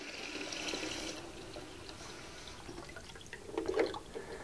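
Well pump water pouring into a 5-gallon jug, a faint steady liquid rush with light drips and a brief louder gurgle near the end.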